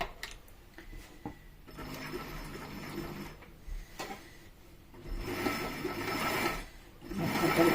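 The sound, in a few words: HandiQuilter Moxie XL machine sewing a zigzag stitch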